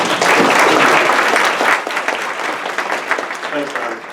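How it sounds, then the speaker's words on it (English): An audience at an event breaks into loud, dense applause that fills the first half, then thins into scattered claps as a voice begins speaking over the tail. "give him a round of applause,"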